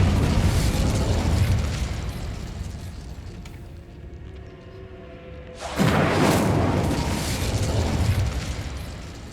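A fire spell cast from a wand in a video game, heard as a loud roaring burst that fades, then a second big whooshing blast of flame that carries on strongly.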